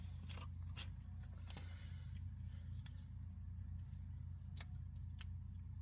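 Sharp snips of a cutting tool trimming a wire for a windshield washer pump, a handful of brief clicks spread irregularly over a low steady hum, close and fairly quiet with no talking.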